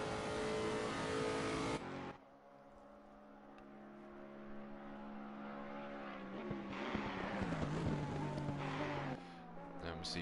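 Ferrari race car in a racing game through Eau Rouge at Spa, its engine note dropping on a downshift then climbing steadily in pitch under acceleration, with a commentator talking over it.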